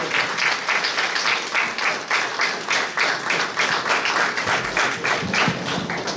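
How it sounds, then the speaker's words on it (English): Sustained audience applause at a gubernatorial candidates forum, steady dense clapping carrying on for several seconds with no talk over it. "please give them all a round of applause"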